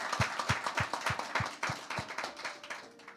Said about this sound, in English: We have to give Pastor Joanna a round of applause.